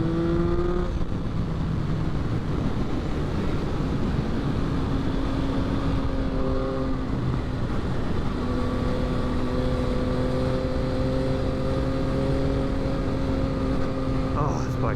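A 2022 Yamaha XSR900 motorcycle rides along at quarter throttle, its engine holding a steady, loud drone with mild pitch shifts and gear changes, wind rush mixed in, and a rider's voice briefly heard over it.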